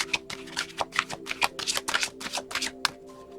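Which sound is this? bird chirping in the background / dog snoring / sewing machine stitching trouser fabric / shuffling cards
shuffling cards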